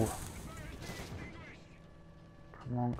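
Tank gunfire in War Thunder during simulator battle with a Crusader MkIII, a couple of heavy shots and rumbling blasts under excited talk, with a strong boom at the end.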